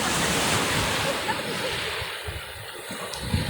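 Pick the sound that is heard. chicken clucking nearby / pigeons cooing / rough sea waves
rough sea waves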